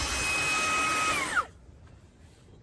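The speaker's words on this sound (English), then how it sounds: "So I'm quite happy with this little vacuum." Fanttik Slim V8 Apex cordless handheld car vacuum whirring steadily with a high motor whine, then switching off and winding down within a second to near silence.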